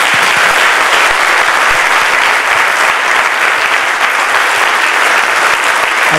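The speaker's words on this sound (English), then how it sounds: "Could we just give them a quick round of applause again" Audience at a North Penn High School Engineering Academy nanotechnology presentation applauds the graduating seniors, a dense, steady wash of many hands clapping that stays loud and even throughout.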